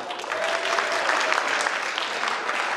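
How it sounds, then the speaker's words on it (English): At a school talent show, an audience breaks into steady, lively applause, a bright crackle of many hands clapping at once that holds at full strength throughout. "Clap it up."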